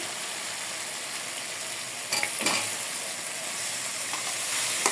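Fish curry with tomato, cumin, coriander and garlic paste fries in a pan with a loud, steady hissing sizzle, and a couple of brief scraping stirs come midway, with no voices.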